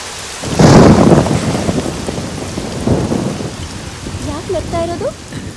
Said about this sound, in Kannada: ಮಳೆನೇ ಬರೋ ತರ ಇದೆ, ಬನ್ನಿ ಹೋಗೋಣ